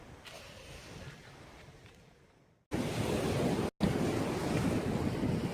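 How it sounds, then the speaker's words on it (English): Ocean waves and wind at a rocky beach on the coast of France or Spain, a soft surf wash that drops out briefly, then returns as loud buffeting wind and surging waves close to the microphone. "I don't know if you can hear me because it's windy and wavy"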